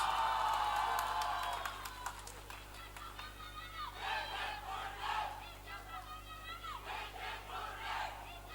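Audience at an annual award ceremony breaks into loud applause with cheering and whoops, a dense burst of clapping at first, then a crowd roaring and shouting in waves.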